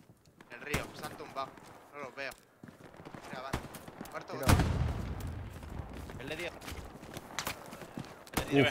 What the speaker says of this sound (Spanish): esos tiros no sé dónde de coño vienen